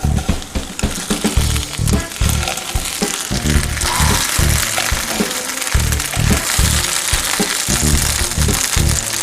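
Potato pancakes sizzle steadily in a hot pan, with a dense crackle of frying fat and a few scrapes and knocks as a spatula turns them.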